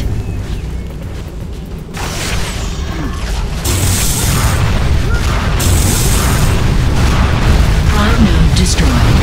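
A prime node blows up in an Unreal Tournament 3 Warfare match: heavy booming blasts and crashing debris land over ongoing game noise, loud and close, with the roar building in stages.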